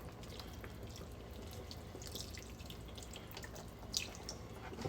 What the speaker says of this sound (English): I'm gonna pour a little bit of my beef broth in now,